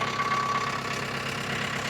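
A JCB engine idles in a steady, even drone with a low mechanical throb; it may be cracked, leaking oil, and have a loose silencer bolt. It sounds close and continuous, with no talking.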